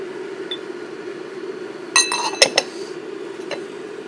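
Ceramic teaware clinks a few times in a quick cluster as pu'erh tea leaves are rinsed, small bright taps over a steady low background hum, fairly close, with no voices.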